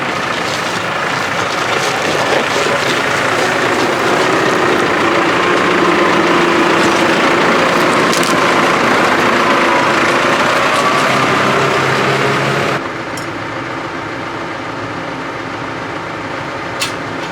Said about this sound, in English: It's a 4-cylinder tractor, 2 cylinders less, slightly lighter than the 6R, but she's carrying the Synkro.